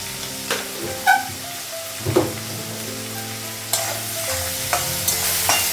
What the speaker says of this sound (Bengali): তাড়াতাড়ি পেঁয়াজটা ভাজা হবে